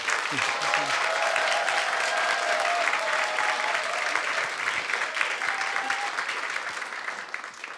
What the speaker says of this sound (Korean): 우리 박수로 힘차게 환영하겠습니다.